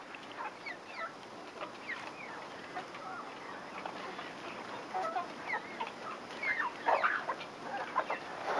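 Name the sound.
chicken clucking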